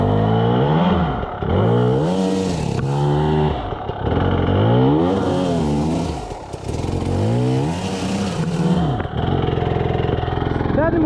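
An enduro motorcycle engine is revved hard several times in a row, each burst rising and falling in pitch, loud and close.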